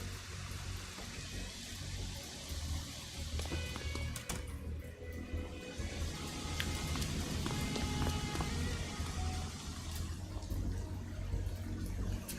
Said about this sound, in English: What a rainy day.